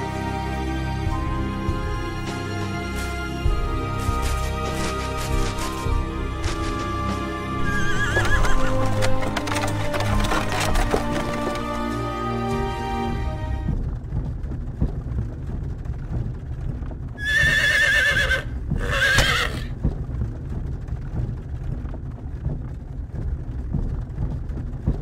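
Horses whinny and hooves clip-clop as they pull a wagon in the Star Ocean 3 video game. Game music plays in the first half, then steady hoofbeats continue, broken by two loud neighs near the end.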